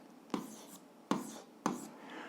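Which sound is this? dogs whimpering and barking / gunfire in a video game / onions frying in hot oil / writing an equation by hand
writing an equation by hand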